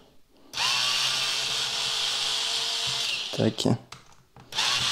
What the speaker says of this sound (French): Pour ça, je vais dévisser ces deux vis.